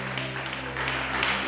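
A church congregation's applause during a Spanish-language service: steady, fairly soft clapping from a crowd for the whole moment, with a low hum and faint voices underneath.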